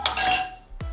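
A metal spoon clinks against a bowl while scooping cooked, blended butternut squash baby food, a couple of short bright scrapes and taps close by.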